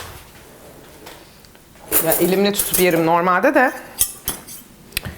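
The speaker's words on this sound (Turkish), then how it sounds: "Şuradan bir çatal bıçak alayım." A fork and knife clink and rattle as they are taken from a drawer in a home kitchen, a burst of metallic jingling with a few sharp clinks after it, while someone talks over it.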